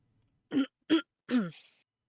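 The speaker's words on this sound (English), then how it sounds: "That's a very polite cough for somebody wanting to go to bed." Three short throat-clearing coughs, close and quiet, the last one slightly longer and trailing off into silence.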